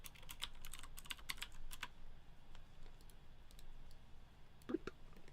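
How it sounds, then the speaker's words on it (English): Someone types on a computer keyboard from an awkward angle during a livestream, producing quick bursts of crisp key clicks that grow sparser toward the end, quiet and close. "I'm like at a bad angle on this keyboard."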